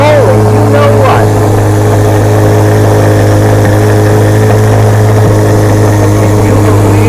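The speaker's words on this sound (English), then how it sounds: "Can you believe the sound of this Z06? That is a flat plane crank" A 2025 Corvette Z06 with a flat-plane-crank V8 idles loudly and steadily close by, its deep drone filling the whole stretch while people talk over it.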